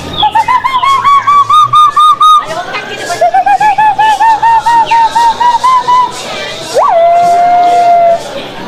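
Someone voices an imitation of an owl or monkey call, a loud, close warbling hoot held in long wavering tones, ending in a sharp upward yelp and a steady note.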